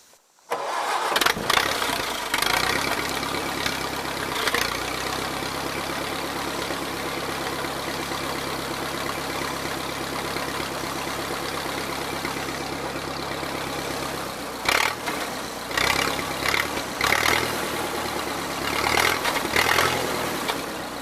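An old Massey Harris 30 tractor with a Continental engine cranks and catches from a cold start, then settles into a loud, steady idle close by, with a few brief revs and stumbles near the end.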